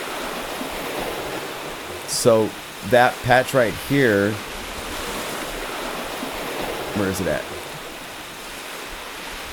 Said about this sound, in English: so there's ocean waves.